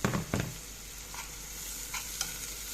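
Softened onion fries in oil in a pan as green pepper goes in, with a few sharp clatters at first and then a steady close sizzle with light stirring. No one talks.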